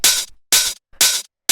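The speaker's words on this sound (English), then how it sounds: "So we have this main hi-hat first." Tech house hi-hat sample from a minimal tech house production, four bright noisy hits with sharp attacks and quick decays, evenly spaced and loud with silence between them and no talk.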